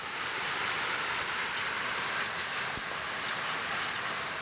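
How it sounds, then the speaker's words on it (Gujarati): Unseasonal rain with strong wind over Modasa and Bayad in Aravalli district, Gujarat, a faint, steady broadband hiss of rainfall with no talking. "ભારે પવન સાથે મોડાસા શહેર, ગ્રામ્ય પંથક, બાયડમાં વરસાદ જોવા મળ્યો છે"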